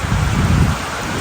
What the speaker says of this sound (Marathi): आज पहिल्यांदा पाऊस पडला कल्याणमध्ये आणि अचानक पाऊस पडला